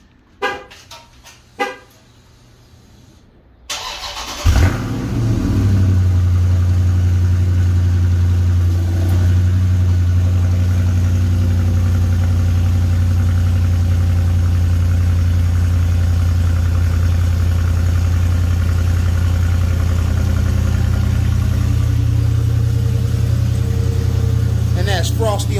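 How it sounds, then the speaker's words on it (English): A motorcycle cold-starts after a few quiet clicks, catching with a loud burst and settling into a steady, deep, loud idle that drones on close to the microphone. "Let me do a cold start one time for the one time."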